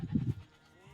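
A sheep in a strategy video game gives one short, near bleat that fades quickly into quiet game ambience.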